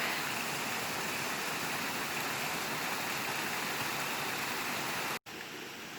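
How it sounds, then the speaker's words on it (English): A small waterfall on a creek at Fieldstone Farm Preserve in Monroe County rushes in a steady, full hiss of falling water, close and continuous, with a brief dropout near the end. "And here is our little waterfall from the top."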